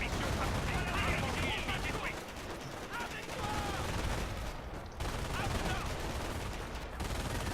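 Bursts of machine gun fire and rattling gunfire in the WWII strategy game Company of Heroes, dense and continuous over a rumbling battle bed, with voices talking over it.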